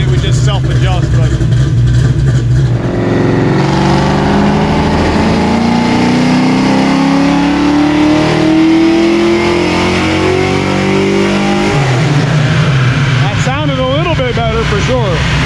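A 393 stroker V8 in a street car revs on a dynamometer during a pull, its loud engine note climbing steadily in pitch before dropping back to a rough idle, with people talking over it near the end.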